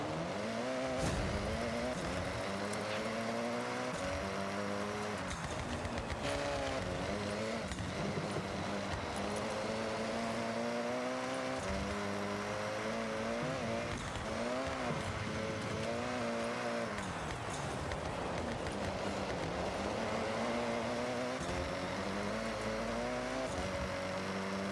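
Tuned power car in a racing video game lapping a handling track, its engine revving up and down repeatedly through gear changes, loud and continuous throughout with no voices.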